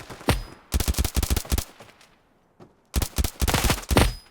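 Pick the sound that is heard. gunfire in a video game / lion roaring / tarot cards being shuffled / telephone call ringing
gunfire in a video game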